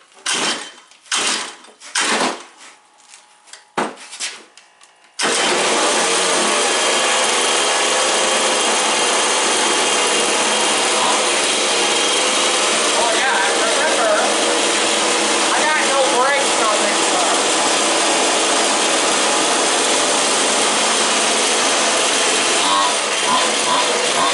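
A 1934 coupe with a new clutch cranks in several short bursts. It then catches and runs as a loud, steady engine roar that holds for about twenty seconds.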